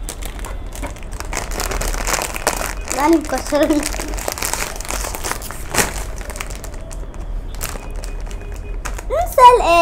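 A plastic gift bag is crinkled and rustled almost continuously as it is opened, with louder crackling bursts partway through, while a child and an adult talk over it.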